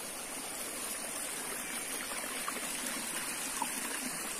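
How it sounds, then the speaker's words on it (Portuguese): A small stream in Minas Gerais runs between stones with a steady, close trickle and babble of water, continuous and moderately quiet, with no voices. "Deságua nesse riachinho de lá."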